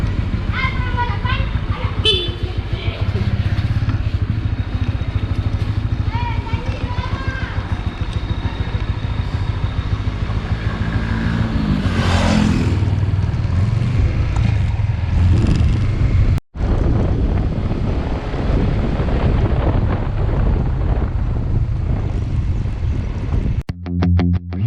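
Continuous engine drone of a motorcycle on the move near Poso, Sulawesi, Indonesia, with wind noise, a couple of horn toots, and a voice talking over it.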